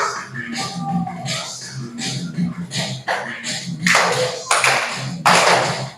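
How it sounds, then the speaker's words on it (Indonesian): A classroom group claps hands together in several bursts of applause, the loudest near the end, with some talk and movement in between. "tepuk tangan untuk semuanya"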